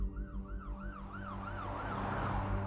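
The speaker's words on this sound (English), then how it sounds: "Minutes later, an ambulance arrived, followed by a fleet of police cars." Wailing ambulance siren sweeping up and down in a steady rising and falling pattern, loud and close over low road rumble, with no voices.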